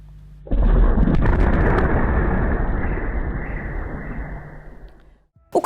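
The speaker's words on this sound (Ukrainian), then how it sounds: "Повторна серія вибухів пролунала знову ж таки на тому самому аеродромі Енгельс" A sudden deep blast from a series of explosions at Engels airfield erupts into a long rumbling roar that slowly fades over several seconds, ending with a brief sharp knock.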